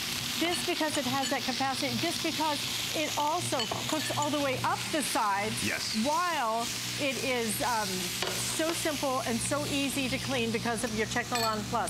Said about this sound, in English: And this sizzle sound you hear, you want to maintain it.